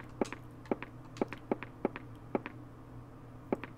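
Footsteps climbing stairs in the video game Clock Tower, a steady series of about eight soft, evenly spaced thuds over a low background hum, with no talking.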